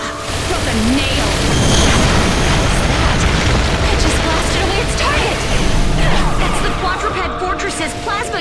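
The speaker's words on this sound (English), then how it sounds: "Quadruped Fortress's plasma cannon! You do not want to get hit by that!" In Earth Defense Force World Brothers 2, a Quadruped Fortress fires its plasma cannon, giving loud, dense blasts and rumbling explosions that go on without a break, with a voice speaking over the barrage.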